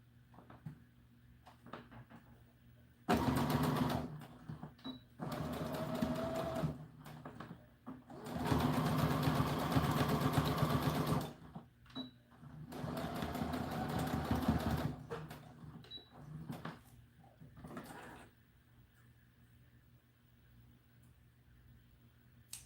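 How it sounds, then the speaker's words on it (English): Home sewing machine stitching pleats on an American Girl doll dress: several short, stop-start bursts of whirring stitching, close and moderately loud, separated by quiet pauses with faint handling sounds. "Just want to make sure we don't accidentally sew over any part that we don't want to sew over."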